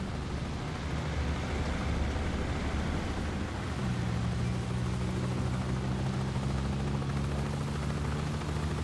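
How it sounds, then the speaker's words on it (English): In the spy video game 007 First Light, a helicopter's rotor thump and turbine whine swell steadily as it draws closer, a continuous throbbing drone with a sustained pitch emerging midway. "Bavma's heli is inbound."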